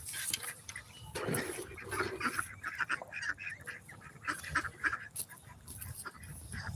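Muscovy ducks on a farm during evening chores, giving repeated low hissy quacks and honking calls close by, scattered over several seconds against a busy farmyard background.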